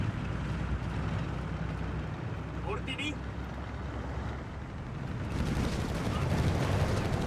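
White phosphorus artillery barrage in the World War II strategy game Company of Heroes 3, a dense rumble of distant shelling with a low boom partway through, underneath continuous commentary.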